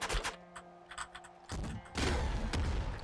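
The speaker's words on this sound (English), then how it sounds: "Cluster launcher, grenade launcher." Cluster launcher or grenade launcher shots in the video game Nuclear Throne, a few sharp bursts and blasts scattered over a faint electronic hum, growing into a louder rumbling explosion at the end.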